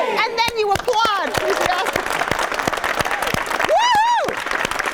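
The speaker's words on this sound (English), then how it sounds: "And then you applaud." A group in a community organizing and performance training session claps and whoops together after shouting in unison, with excited voices and a loud cheer rising over sharp, scattered handclaps.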